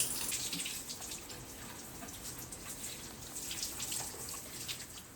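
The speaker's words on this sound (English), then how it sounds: "It's shower time." Shower water runs in a steady, faint hiss of spray and splashing that carries on without break, with no voices over it.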